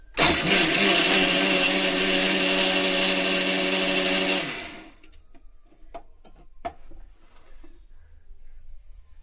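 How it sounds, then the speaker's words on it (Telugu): A mixer grinder whirs loudly as it grinds green chillies with salt, a steady high motor roar for about four seconds before spinning down, followed by a few faint clicks and knocks. "మిక్సీ పట్టేస్తాను ఇప్పుడు"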